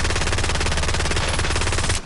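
Rapid, dense automatic gunfire from a video game, a continuous loud burst of machine-gun shots rattling without pause for about two seconds before cutting off abruptly.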